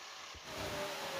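A used 2009 Toyota Avanza engine runs steadily at close range, a continuous mid-low hum that swells slightly louder partway through, with no talking over it.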